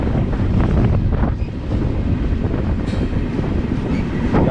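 A freight train pulled by a GM locomotive rolls past with gondolas and grain cars, a loud, rumbling clatter of wheels on rails mixed with heavy wind buffeting the microphone.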